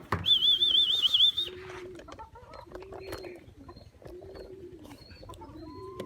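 Soft, repeated low coos come from a racing pigeon at a training release, spaced a second or so apart, after a brief high warbling whistle at the start and with faint background sounds.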